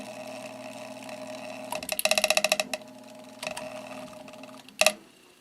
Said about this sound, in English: It takes a long time for that rotor to come to a stop.